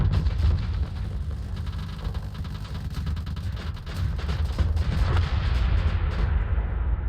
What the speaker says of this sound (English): Oh, that's a lot of missiles.